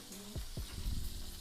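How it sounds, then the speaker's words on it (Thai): Minced pork hits hot oil with a loud, steady sizzle and crackle, with a couple of low thumps from the pan near the start. "น้ำมันกระเด็นใหญ่เลยครับ"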